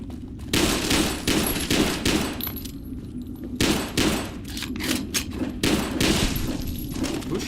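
Gunfire aimed at the player in Fallout New Vegas, a run of irregular shots and bursts cracking close by over a steady rumbling game background, with no talking.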